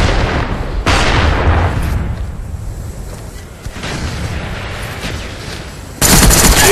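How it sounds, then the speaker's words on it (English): Friendly mortar strike in Call of Duty Black Ops, a heavy broadband barrage of booming blasts and rumbling impacts that swells, eases, then surges loud again near the end. "Friendly mortars inbound."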